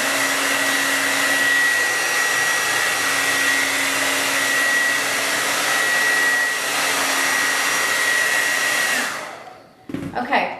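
Hair dryer blowing on hair, a loud steady whooshing roar with a faint high whine that runs continuously, then cuts off near the end, followed by a few brief handling sounds.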